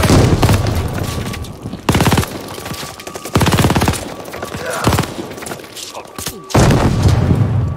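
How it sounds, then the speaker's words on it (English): Heavy gunfire and a grenade blast from Call of Duty: Vanguard, with loud bursts of rapid automatic fire and deep booming thuds in repeated waves over a constant rumble of battle, while voices shout faintly underneath. "Grenade, get down!"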